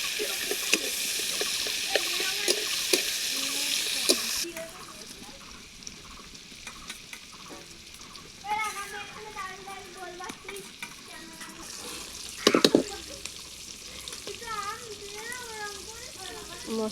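Chopped onion and garlic with five-spice tempering sizzle in a pan while being stirred, the frying hiss steady under repeated utensil scrapes, with people talking nearby.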